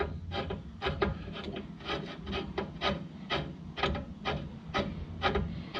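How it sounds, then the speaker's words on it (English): A brake caliper piston press-back tool works on the rear brakes of an F150, producing a series of rhythmic scraping, ratcheting strokes, close up and moderately quiet. "I'm going to take my little press back in tool, and I'm going to center that adapter on the piston."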